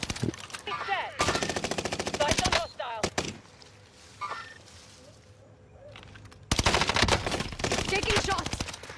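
Video game gunfire in a military shooter, with long bursts of rapid automatic fire near and loud, separated by a quieter stretch with scattered single shots.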